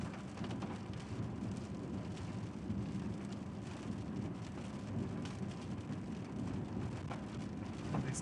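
Steady heavy rain pours during a severe Central Texas thunderstorm, a dense continuous hiss with low rumbling underneath, constant throughout with no talk.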